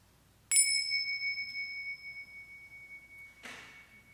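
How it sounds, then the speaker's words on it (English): A pair of tingsha chimes is struck once to open a church service, a bright, sharp ring that sustains and slowly decays, then a softer second strike near the end in a quiet room. "let the sound of the tingsha open our hearts to all we might"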